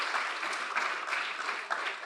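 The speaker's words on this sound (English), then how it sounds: "please give a big round of applause to all our speakers on stage" A crowd applauding steadily for speakers on stage at a talk, dense clapping sustained throughout at an even, fairly loud level with no voices.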